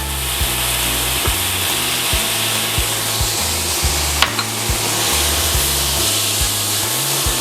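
Garlic sizzles in a frying pan alongside tomatoes, a steady loud hiss with a spoon scraping and stirring in regular strokes, close by and without voices.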